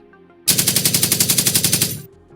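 A stun gun is fired in a rapid burst of about sixteen evenly spaced, loud, sharp shots lasting under two seconds, with no voice over it.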